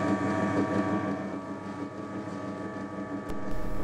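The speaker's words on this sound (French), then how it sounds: "Donc nous allons pouvoir démarrer le moulin grâce à la commande." A grain mill starts up and runs with a steady, dense mechanical drone and a low hum, holding level close by with no talk over it.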